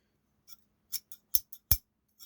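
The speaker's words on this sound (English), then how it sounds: "Beautiful old German-made scissors." Old German-made metal scissors clicking and snipping: a series of sharp, close metallic clacks, a few louder than others, in an otherwise quiet room.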